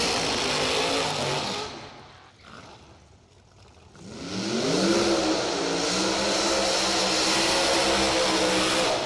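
A Pro Charged 1969 Camaro drag car revs hard, loud engine noise that fades to a dip, then surges back up with rising pitch and holds steady.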